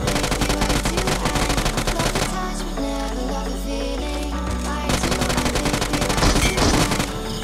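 Rapid bursts of automatic gunfire in PUBG on the Livik map, loud and close, with a brief lull in the middle before the shooting resumes.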